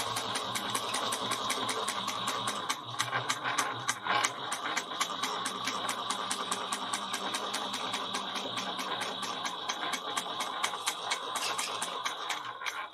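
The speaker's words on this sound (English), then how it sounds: "All right, so let's top stitch this." A sewing machine topstitches continuously at a steady, fast rhythm, its rapid needle clatter close and even throughout with no voices.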